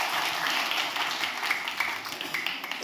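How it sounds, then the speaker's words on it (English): Audience members at a Christmas show clap for a volunteer, a dense, steady patter of many hands held at a moderate level throughout. "let's give Joseph a huge round of applause"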